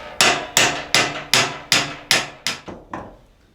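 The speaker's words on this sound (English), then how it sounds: "so I can continue to hammer it out." Sharp metallic hammer strikes on a brass Wessex Z horn valve assembly: seven evenly spaced, ringing blows, each decaying quickly, followed by two weaker taps as the rhythm trails off, close and alone.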